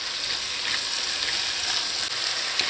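Shrimp fry in a pan for lobster chowder, making a dense, steady hiss of sizzling oil up close with faint crackles and no other sounds.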